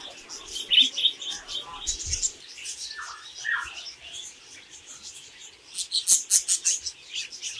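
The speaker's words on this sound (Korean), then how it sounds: "사랑 앵무새?" A pet lovebird chirps and tweets in quick bright bursts, close by, with busier clusters of calls toward the start and end.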